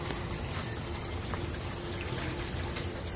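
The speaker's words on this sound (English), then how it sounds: "This is what you call an improvised watering system." Water trickling steadily from an improvised garden watering system, a continuous close hiss and dribble with no talk over it.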